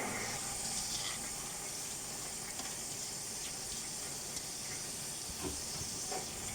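Chana dal tipped into a hot pan of fried spices gives a steady, even hiss and sizzle, with a few faint clicks of the spoon scattered through and no talking.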